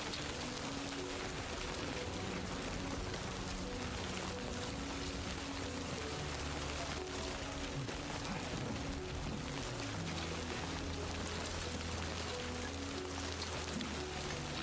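Rain pours steadily in the video game Death Stranding 2, a constant dense hiss with low tonal game music or ambience shifting beneath it, no speech.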